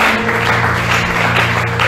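A church congregation applauding and cheering to acclaim the Lord at a Christmas service, with a steady, loud wash of many hands clapping together at close range.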